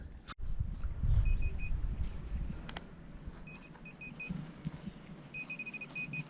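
A metal detector sweeps a city beach in Olsztyn and signals a coin find with bursts of short, high, two-tone beeps repeating in quick runs. Constant low rumbling and handling noise sit underneath, and no one speaks.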